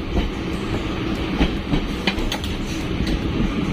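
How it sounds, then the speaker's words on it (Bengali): A moving local train heading toward Barasat Junction rumbles steadily from inside the carriage, with rhythmic clickety-clack wheel knocks over the rails and a constant loud roar. "ট্রেন চলছে, বাইরের দৃশ্য দেখতে দেখতে আমরা চলে গেলাম বারাসাত জংশনের দিকে"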